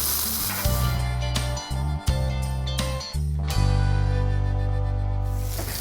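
Chicken wings sizzle on a Blackstone griddle in a constant crackling hiss, broken by a few sharp pops and under a steady low hum.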